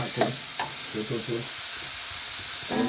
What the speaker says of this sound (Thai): ผัดกะเพราหมูครับ